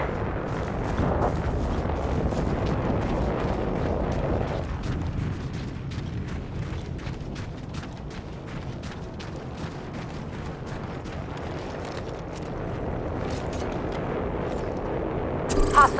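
Rapid bursts of gunfire in the video game Apex Legends, sharp repeated shots clustered through the middle over a low rumbling game background, moderately loud, with a louder crack at the very end.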